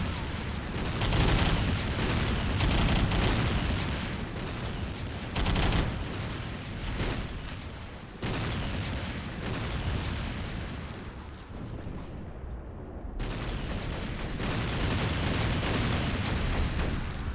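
Dense machine-gun fire from a video game trench battle rattles on without pause, mixed with booming explosions, loud and continuous throughout.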